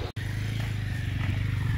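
A motorcycle engine runs steadily and loudly close by, a low rumbling drone with a regular firing pulse that continues through the whole stretch after a brief cut at the start, with no talk over it.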